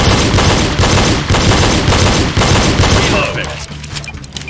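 Pistol shots fired during a reload drill ring out as a rapid string of sharp, loud bangs in quick succession, close up, then stop as the shooting pauses.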